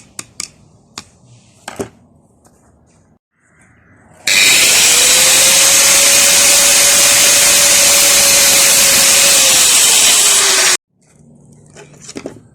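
A power tool saws steadily through the housing of a Valeo starter motor, a loud continuous whine with a sustained tone lasting several seconds, framed by scattered clicks and knocks of handling before and after.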